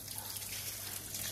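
A large hose pipe sprays water over a brick house under construction, wetting the tank top, giving a steady, even rushing hiss that stays constant for the whole brief moment.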